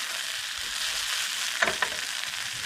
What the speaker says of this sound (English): I'm going to cook up some asparagus